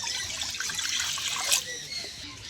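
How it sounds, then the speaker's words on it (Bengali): Water poured into a kadai for boiling vegetables, a continuous close splashing trickle for a couple of seconds with a brief brighter splash partway through. "কড়াটা বসিয়ে দিলাম, কড়াতে জল দিয়ে দিলাম।"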